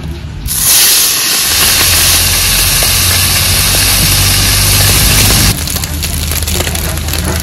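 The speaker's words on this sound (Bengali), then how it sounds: "মাছগুলো তেলে ছেড়ে দেব।" Small chada fish hit hot oil in a pan with a loud, steady broadband sizzle and hiss that holds for several seconds, then drops in level near the end while continuing to crackle.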